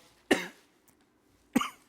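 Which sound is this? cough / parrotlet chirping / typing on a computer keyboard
cough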